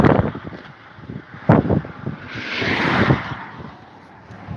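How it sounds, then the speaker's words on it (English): Gusty outdoor wind buffets the microphone with loud rumbling rushes and a broad hiss that rises and falls, joined by a faint passing car. "It's a little windy out here."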